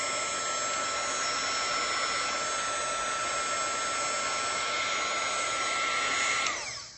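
A hair dryer blows over a watercolor painting, a loud, steady whooshing drone with a faint motor whine held evenly for about six seconds before it cuts off abruptly, with no voices.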